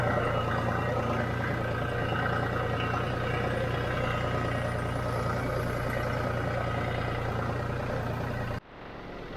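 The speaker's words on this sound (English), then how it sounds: "This John Deere is a great tractor." A John Deere tractor engine idles on a farm field with a steady, close, low mechanical drone that holds even for most of the stretch, then cuts off abruptly near the end.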